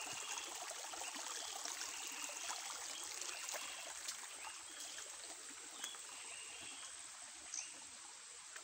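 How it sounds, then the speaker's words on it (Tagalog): A small outdoor stream flows with a soft, steady trickling and babbling rush, faint and continuous throughout, with a few light splashes and no talking. "Yung sapa."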